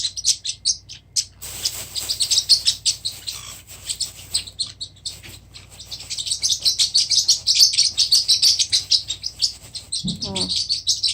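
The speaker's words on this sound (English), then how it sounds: "Silly birds." Pet parrotlets chirp in quick, high, bright repeated calls, busy and close, with short quieter gaps and a brief low rustle near the end.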